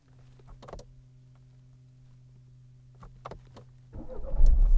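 Renault Talisman car being started from inside the cabin, with a couple of clicks and a low hum before the engine cranks and catches near the end, rising into a loud rumble.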